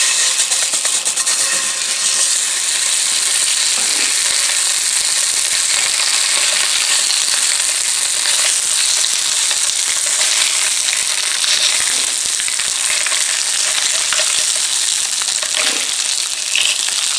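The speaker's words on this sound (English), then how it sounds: "I'm going to throw some sausage links in here." Maple sausage links sizzling in a smoking frying pan, a loud, dense, continuous crackle and hiss that holds steady throughout with small pops.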